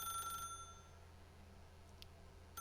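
A telephone rings in The Stanley Parable, a faint, short electronic trill at the very start that quickly dies into quiet room tone, with a tiny click near the end.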